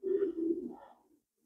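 A pigeon gives one soft, low coo lasting about a second and fading out, heard close by in a quiet setting.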